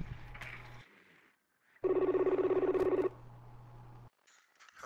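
A telephone rings inside the video game Rainbow Six Siege, one loud electronic ring burst of a little over a second standing out between quieter in-game sounds.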